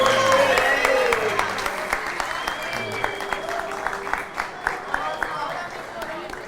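An audience claps in a big hall, dense applause that starts strong and slowly thins into scattered individual claps, with some voices faintly underneath.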